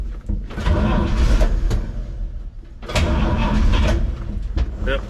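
A 1951 Chevy truck engine cranks and churns in two loud, rough bursts separated by a brief lull, close up and with no talking.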